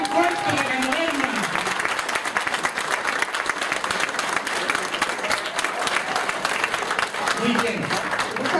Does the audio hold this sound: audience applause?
yes